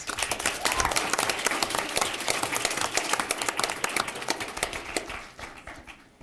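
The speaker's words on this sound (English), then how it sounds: "Please give all of our sponsors a loud round of applause." A crowd applauds with dense, steady clapping that holds strong for several seconds, then thins out and fades toward the end.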